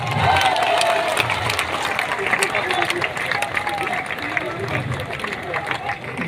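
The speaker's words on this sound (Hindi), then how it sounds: "जोरदार ताली बजाइए।" A crowd at a Jan Suraaj party launch applauds to welcome party president Manoj Bharti, a steady dense wash of clapping mixed with babble and cheering voices.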